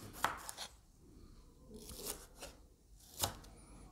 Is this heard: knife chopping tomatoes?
yes